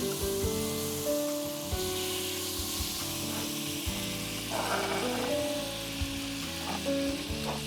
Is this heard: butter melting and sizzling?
yes